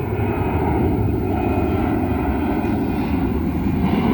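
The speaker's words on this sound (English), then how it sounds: "There's a plane taking off." An airplane takes off from a nearby airport beside farm fields, a continuous loud low engine rumble and roar filling the whole stretch without speech.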